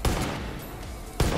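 Rapid gunfire from a flight combat video game, dense bursts at the start and again near the end with steady noisy rumble between, loud and close, no talking.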